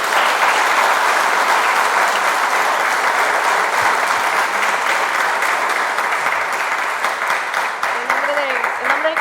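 Loud, dense applause from an audience at the Colegio de Ingenieros del Perú thanking a presenter on a coastal railway project, steady clapping sustained throughout, with a faint voice emerging near the end.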